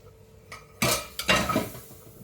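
A spoon stirs lentil soup in a pot, a short burst of close metal scraping and clinking against the pot's sides. It comes in two quick strokes after a brief knock.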